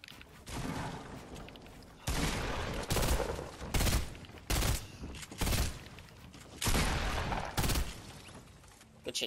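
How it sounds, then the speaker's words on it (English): Gunfire in the Fortnite video game: repeated loud bursts of rapid shots in clustered volleys with short gaps, close and dominant. "Somebody shooting at us?"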